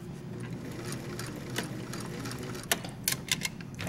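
A sewing machine stitches a side seam pocket on a garment, running in a quiet, steady mechanical whir with a few sharp clicks and taps near the end as the stitch reverses.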